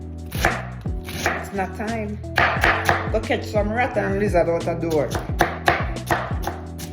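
Knife chopping cabbage on a cutting board for Jamaican corned beef and cabbage, a steady run of sharp, close thumps throughout, with someone speaking over the cutting.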